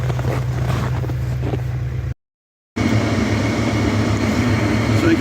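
Tractor engine idling in minus-40 cold, a steady loud low rumble heard from inside the cab, cut by a short gap of silence before resuming.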